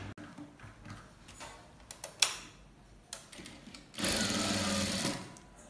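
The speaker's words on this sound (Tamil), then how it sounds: "திருப்பிட்டு ஒரு பதிச்சு தையல் போடலாம்." A sewing machine stitches a box pleat frock in short bursts of quiet ticking, then runs in one longer, louder continuous burst near the end, heard close up.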